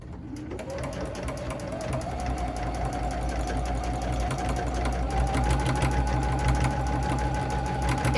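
A sewing machine with speed control hums steadily during free motion quilting, a continuous rapid stitching drone that starts up and holds at an even pace, with no voices.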